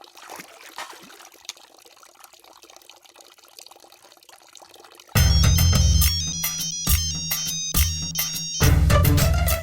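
A phone rings during an outgoing call, a loud repeating electronic ring tone with short gaps that cuts in abruptly after a few seconds of quiet background.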